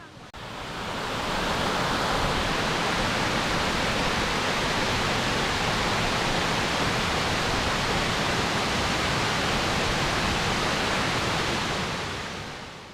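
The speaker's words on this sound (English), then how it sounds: "Kuang Si Waterfalls are truly breathtaking." Kuang Si waterfall near Luang Prabang, Laos, a 60-meter cascade over pools in green forest, pours in a loud, steady broadband roar that holds unbroken from start to finish with no voices.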